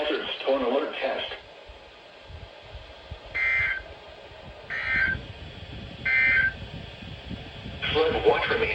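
A NOAA Weather Radio EAS alert test plays over a radio, with three short, identical, loud tone bursts evenly spaced between stretches of speech.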